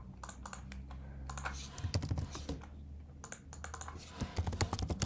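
Computer keyboard keys clatter in quick bursts of typing while code for a React Native mobile app is written, close and crisp, with brief pauses between runs of keystrokes.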